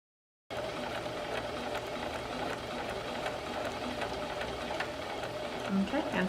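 A sewing machine stitches a zigzag in a steady, continuous mechanical whir with a fast rhythmic clatter, running close and moderately quiet throughout.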